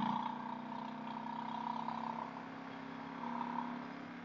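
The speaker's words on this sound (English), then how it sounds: "that exhaust sounds so good." A steady, low motorcycle exhaust rumble drones throughout, with a faint higher whine above it and no talking.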